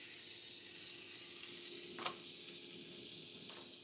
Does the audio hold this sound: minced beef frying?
yes